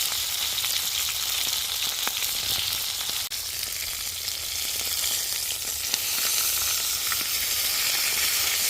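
Thick ribeye steaks frying on an El Disco, a steady close sizzle and crackle running unbroken throughout, with no talking.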